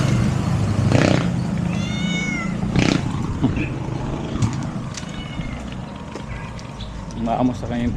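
A cat meows a few times at close range, short mewing calls spaced apart, with people talking nearby and a passing motor in the background.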